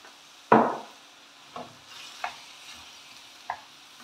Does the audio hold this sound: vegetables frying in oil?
yes